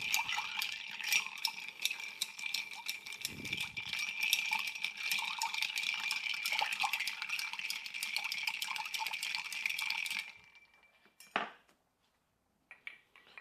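Ice rattles and clinks steadily against the glass as a bourbon drink is stirred, a busy close-up clatter lasting about ten seconds before it stops, followed by a couple of faint knocks.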